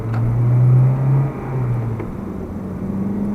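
A 2002 Acura RSX Type S engine holds a steady cruise at about 80 km/h under light load, producing a low, continuous drone with a faint, even whir and no talking.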